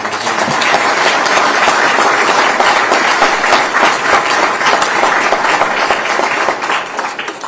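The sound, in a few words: applause for Randy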